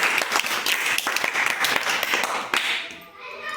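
Classroom applause for a student, a burst of children's clapping that fills the whole clip, close and lively, fading at the end.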